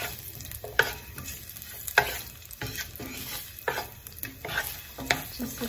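Thinly sliced garlic sautéing in canola oil, a close bright sizzle broken by several sharp scrapes and clanks of a utensil stirring in the pan, with no voices.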